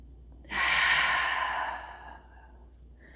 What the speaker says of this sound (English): Take another deep breath, hold it at the top, and then exhale.